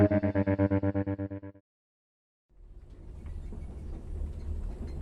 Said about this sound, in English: listening to the rumbling of the train